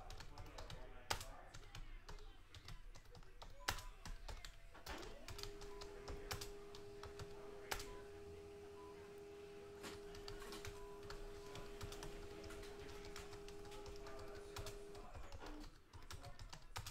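A printer runs through a printout of the team list, a steady mechanical whir lasting about ten seconds between scattered clicks and taps in a quiet room, with a voice speaking at the start.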